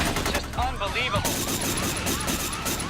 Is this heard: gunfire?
yes